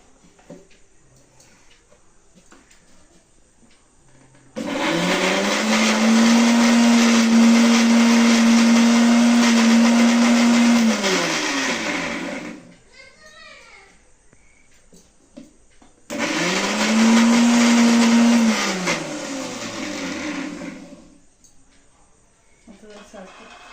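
A mixer grinder blending mango pulp runs loudly in two bursts, a high whirring roar that winds down each time, with brief quiet moments and faint talk between.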